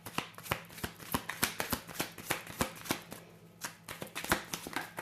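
A tarot deck being shuffled by hand, a quick run of crisp card slaps and riffles in steady rhythm, close-up and fairly loud, with no voice.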